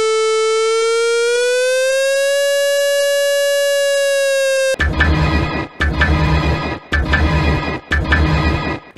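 North Korean emergency alert alarm: a loud, steady siren tone that rises slightly in pitch holds for several seconds. It then gives way to harsh, noisy bursts pulsing at a regular rate.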